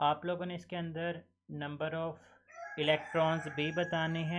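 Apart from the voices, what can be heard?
rooster crowing in the background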